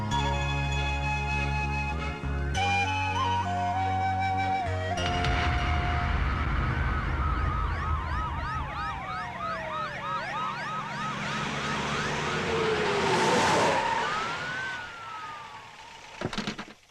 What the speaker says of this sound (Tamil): சங்கூதுற மாதிரி சைரன் ஊதிட்டு வரானுங்களே